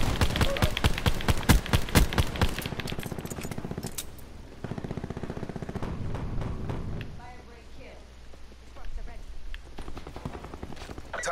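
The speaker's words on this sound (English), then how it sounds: "I shot him right in the head with my pistol" Rapid pistol gunshots in Call of Duty: Black Ops 4 multiplayer, a fast run of sharp cracks at the start followed by further scattered bursts, with someone talking over parts of the action.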